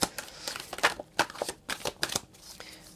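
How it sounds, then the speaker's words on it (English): Tarot cards are shuffled by hand, a close sequence of quick riffling bursts and soft slaps in an irregular rhythm over about three seconds. "Just going to keep shuffling."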